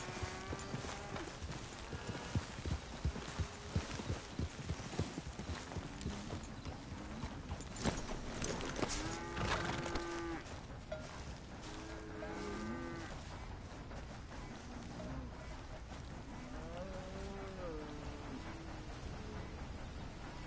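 Cattle moo repeatedly in a video game while horse hooves clip-clop steadily over a busy stretch, the lowing calls rising now and then above the trotting.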